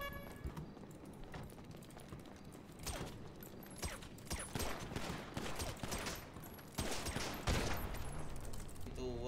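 Rapid bursts of gunfire in a game clatter close and loud in irregular clusters, mixed with mechanical clicks and scuffling, with no talking.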